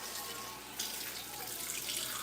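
Hot water runs steadily from a kitchen tap while someone prepares to cook tortillas, a continuous close splashing flow that swells slightly partway through.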